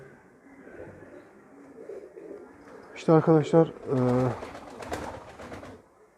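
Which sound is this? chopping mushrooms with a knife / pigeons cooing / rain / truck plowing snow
pigeons cooing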